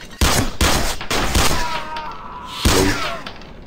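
Rapid gunfire from the video game Sierra 7: a handful of loud, sharp shots in quick succession, with a final burst near the end and ringing tails between them.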